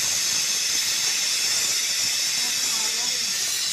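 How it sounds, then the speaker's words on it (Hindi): A steam whistle blowing with a steady, loud hiss of escaping steam that holds evenly for several seconds, with faint background sounds beneath it. "अभी सीटी लग चुकी है। ये देखो सीटी"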